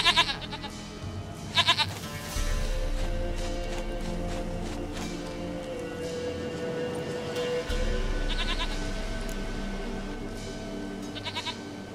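A goat in The Witcher 3 gives a long, quavering bleat that carries on steadily over a low ambient bed, with a few short sharp clicks scattered around it.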